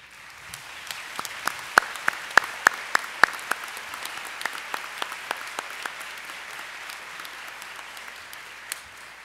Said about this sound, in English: please stand so that we may applaud your efforts in education, research, service, and patient care